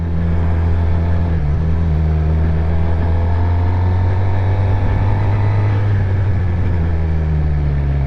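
A motorcycle engine drones loudly and steadily up close as the bike rides onto a neighborhood road, its low hum dipping briefly in pitch before holding even again.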